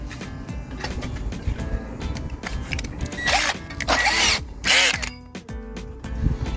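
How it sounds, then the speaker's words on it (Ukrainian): A drill bores out the door card fasteners on a Skoda Octavia A5, with close, loud whining bursts that grow stronger toward the middle, mixed with clicks and mechanical rattles. "Висверлюємо ці кріплення, а потім буде можливість зняти карту."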